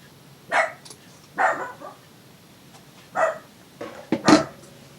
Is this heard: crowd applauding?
no